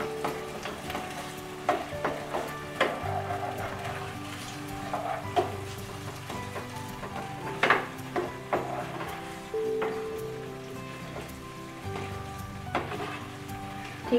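Cream is stirred into white sauce pasta in a pan, a spoon scraping and clinking steadily against the pan over a soft continuous simmering sizzle, with repeated small knocks throughout.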